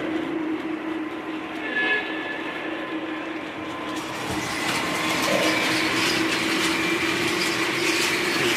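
A Lionel model train runs on a layout, giving a steady rumble that swells louder and brighter about halfway through as it nears. There is no talking.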